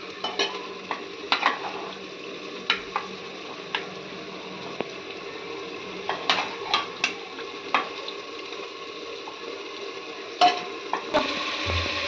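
Steady sizzling of chicken marinated with turmeric and salt frying in a hot pan for biryani, broken by sharp clinks and scrapes of a utensil stirring every second or so.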